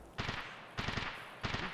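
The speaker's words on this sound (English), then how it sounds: "Gunshots back there." Three quick bursts of gunfire in Escape from Tarkov, each a short rattling cluster of shots spaced evenly apart, sounding somewhat distant and muffled, with no talking.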